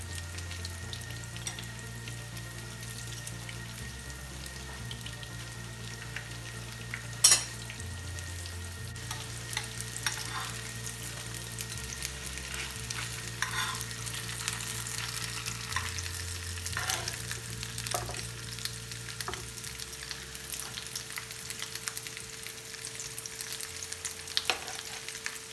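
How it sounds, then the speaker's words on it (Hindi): Roll parathas fry in a pan with a steady, moderate sizzle and occasional soft scrapes, under a low repeating background hum, with no talking. "अब इसका ये है कि इतना ज़्यादा इसको हमने कुक नहीं करना, जस्ट फ्राई करना है कि ये लाल हो जाएं"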